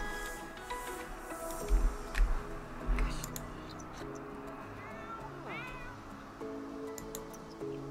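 A cat meows inside a video game, the cries layered over game music and ambient background sounds at a moderate distance, with a few low thumps partway through.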